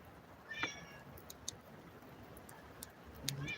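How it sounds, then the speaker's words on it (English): A pet cat meows a few times, soft and fairly close, with short harmonic calls over a quiet room and faint ticking. "This is Uchu, one of my kitties."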